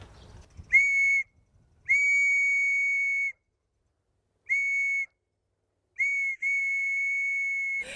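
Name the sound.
handmade whistle being blown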